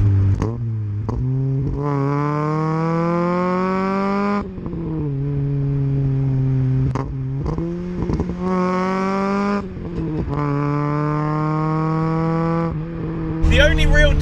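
A Ford Escort van fitted with an RS2000 engine accelerates hard, its engine note climbing in pitch through long revving pulls with brief dips between gears, loud and close, with a sharp noise at the very end.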